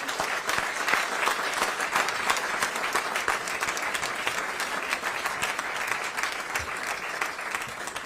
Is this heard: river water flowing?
no